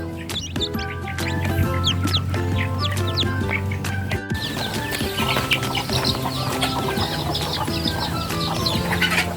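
Hens with their chicks cluck steadily on a poultry farm, with a dense, continuous chorus of clucks and peeps sounding close and fairly loud throughout.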